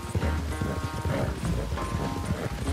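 A horse in Red Dead Redemption 2 gallops hard, its hooves drumming in a steady, dense rhythm that stays loud and continuous throughout.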